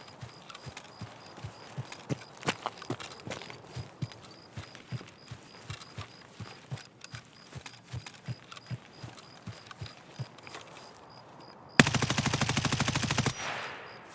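Gunfire in the video game Escape From Tarkov: a long run of soft, evenly spaced thuds and clatter, ending in a loud, close burst of rapid automatic shots lasting about a second and a half.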